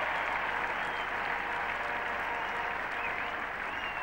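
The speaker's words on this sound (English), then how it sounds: "So the applause not only for the boundary, but for the 50 partnership between these two." A cricket crowd at Old Trafford applauds a boundary for four during the 1977 England v Australia Test; a steady, distant wash of applause holds at an even level without a break.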